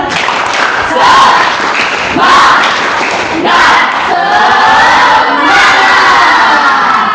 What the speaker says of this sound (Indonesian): mari kita tepuk semangat dulu ya. Tepuk semangat, tepuk semangat.